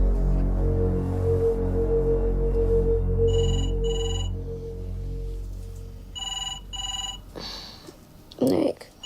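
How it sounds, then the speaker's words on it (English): A telephone rings in a few clear double bursts in a quiet room at night, over a low background hum, and a loud rustle follows near the end. "Nick, it's the phone."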